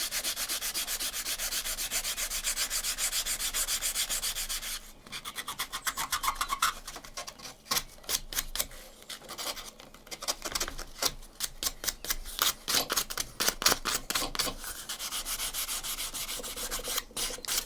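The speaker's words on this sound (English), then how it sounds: "I'll do a little bit more sanding on that" Sandpaper rubbed along a wooden arrow shaft for a medieval longbow arrow, a steady close scratching that gives way to quick rhythmic back-and-forth strokes, all without talk.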